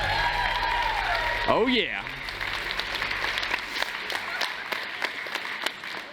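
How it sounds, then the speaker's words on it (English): An audience claps for several seconds, steady applause that slowly thins out, with a brief voice and a swooping sound near the start. "Let's give them a round of applause."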